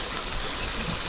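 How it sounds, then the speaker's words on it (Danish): Steady rain falls on a sailboat in dreary summer weather, a dense, even hiss of drops pattering across the deck and rigging, continuous and fairly loud with no voices over it. "Det regner og regner og regner."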